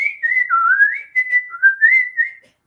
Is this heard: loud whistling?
yes